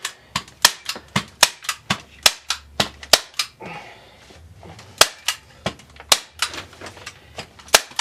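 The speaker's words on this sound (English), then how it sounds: "And I'm just going to staple the plastic down basically." A staple gun fires repeatedly, fastening plastic sheeting onto a foam shooting target during repair with 3D target repair foam. Sharp, loud snapping shots come in quick series, about twenty in all, with a brief pause midway.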